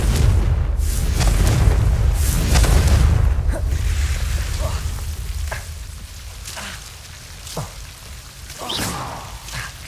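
In the Hogwarts Legacy video game, a Confringo blasting spell erupts in a loud, rumbling boom that slowly decays, followed by scattered crackling debris and smaller impacts.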